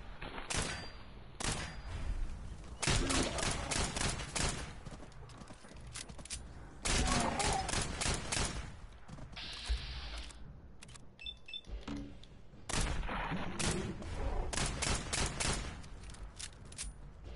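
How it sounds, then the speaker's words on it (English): Gunfire in Fallout 4: dense bursts of rapid shots in clusters separated by brief lulls, loud and close, with a few small metallic clinks between volleys. "Wow, you missed all those shots."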